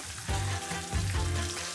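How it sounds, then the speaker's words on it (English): Butter hitting hot homemade caramel off the heat, erupting in a loud close bubbling sizzle and spatter that surges twice as it is stirred in, with no voices. "Carefully add the butter. It may bubble and splatter, so go slowly."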